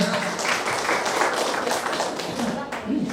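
A crowd at a social-service and free health-check event claps for Mbak Haji Hipno, a former district council member. Brisk, fairly close applause runs for about three seconds, with a voice speaking faintly underneath.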